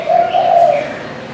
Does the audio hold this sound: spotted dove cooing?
yes